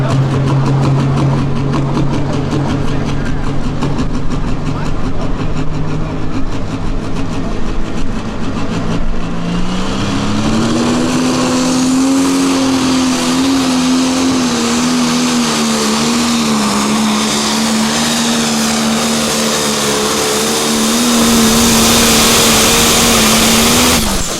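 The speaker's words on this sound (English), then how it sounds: "Could be the last tractor of class." A pulling tractor at a Pro Pulling tractor pull in Freeport, Illinois, roars loud and close through a run, its engine note climbing partway through and holding a steady, heavy drone to the end.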